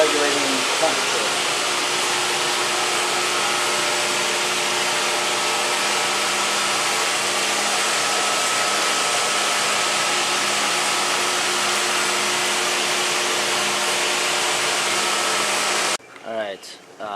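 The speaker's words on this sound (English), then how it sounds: "2 large heaters that heat the pool continuously and keep it up to standard" Two large heaters at an aquatic center's pool run with a loud, steady mechanical roar and hum that continues evenly before cutting off abruptly near the end.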